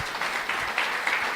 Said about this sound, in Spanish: Démosle un aplauso a Dios por lo que nos está dando esta noche.